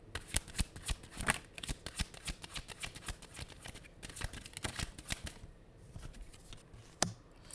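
A deck of tarot cards being shuffled close up, a quick continuous run of riffling flutters and soft slaps with one sharper snap near the end, quiet and alone.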